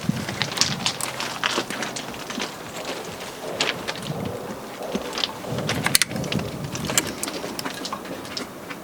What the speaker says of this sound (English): I feel rain on me.